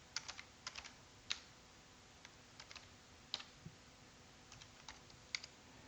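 Computer keyboard typing while entering a date format in Power BI, a sparse series of crisp clicking keystrokes spread unevenly over a few seconds, close and fairly quiet against a low steady background hum.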